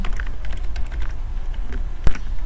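Fingers type on a computer keyboard while writing JavaScript code, a steady run of light, quick clicks and taps close by, ending in one sharper key strike near the end.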